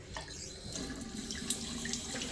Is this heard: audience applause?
no